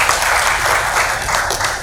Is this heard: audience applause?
yes